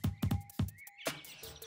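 A horse neighs in a short burst after several quick hoof-like thumps, fairly faint and close, in a comedy scene.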